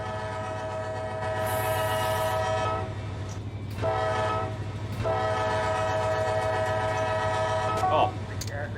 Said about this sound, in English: Well, whatever, I'll still use the horn.